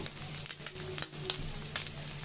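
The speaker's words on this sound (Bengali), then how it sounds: "এইভাবে অপর পাশটাও উঁচু উঁচু করে ভেজে নিতে হবে" Prawn fritters (chingri macher bora) frying in hot oil give a steady, close sizzle with small bubbling crackles and a few brief scrapes of stirring throughout.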